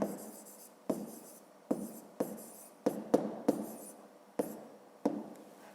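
Pen or pencil writing out a fifth-grade maths answer by hand on paper, a series of scratchy strokes broken by sharp taps as the pen lands, close and fairly quiet with no talking.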